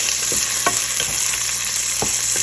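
Chopped onions sizzle steadily in hot oil in a pan for an okra (bhindi) dish, with a spatula scraping and stirring in soft, irregular strokes over the constant frying hiss.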